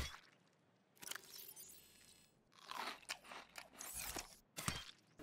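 Crunchy chewing and biting from eating in the Subnautica survival game, arriving in irregular bursts of crisp crunches separated by quieter gaps, fairly close and prominent with no talk.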